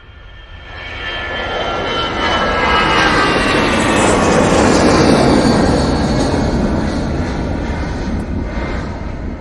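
EasyJet airliner at Manchester Airport, its jet engines building into a loud, sustained roar that swells and slowly fades as it passes, with no talk over it.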